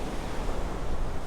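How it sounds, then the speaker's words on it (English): Ocean surf at Myrtle Beach near the end of Ocean Boulevard, a steady broadband wash of breaking waves mixed with wind buffeting the microphone, close and fairly loud, with no voices. "Let's come over here a little closer to the ocean and just have a moment of listening to this surf."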